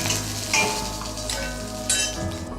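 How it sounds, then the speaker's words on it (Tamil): Potato pieces frying in hot oil in a kadai for honey chilli potato, a steady close sizzle with occasional stirring and light clinks, no talking. "நல்லா பொரிஞ்சு வரணும், நல்லா செக்கப்பாக வரணும்."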